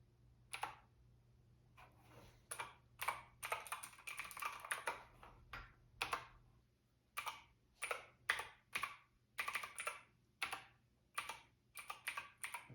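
Clicky keystrokes from a Keychron C2 mechanical keyboard with blue switches, close and crisp, come in steady runs of typing with brief gaps and no voice over them.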